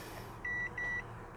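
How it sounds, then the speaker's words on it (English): Key-in warning chime from a 2008 Mazda BT-50 turbo diesel space cab ute: two sustained electronic beeps with a short gap between them, clear and close inside the cab over a low background hum. "the really annoying beep that all the Mazdas do if you put the key in and don't start it"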